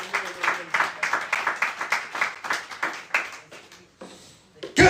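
Church congregation clapping in a brisk, rhythmic pattern, fairly close, slowing and thinning toward the end, with a final loud thump.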